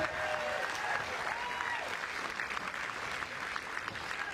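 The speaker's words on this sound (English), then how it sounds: "Put your hands together for Benoit Paire and Liam Broady as well." An audience at a tennis court applauds the players, steady, dense clapping from a crowd that carries on throughout, with a voice faintly underneath.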